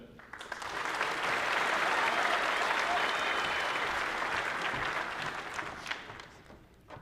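A large audience at a high school honors convocation applauds the freshman class honorees with sustained, dense clapping that swells quickly, holds steady and tapers slightly near the end.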